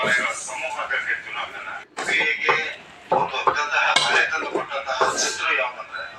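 A metal plate is set as a lid over a pot of boiling water with roasted vermicelli, giving a few light metallic clinks and scrapes beneath continuous close talking.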